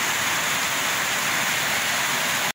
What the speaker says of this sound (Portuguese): chuva aqui em Porto Alegre, o relâmpago cortando no meio do mundo